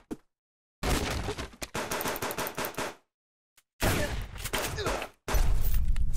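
Automatic gunfire in the survival video game Subsistence, rapid loud bursts of several seconds each, separated by sudden silences, close and harsh.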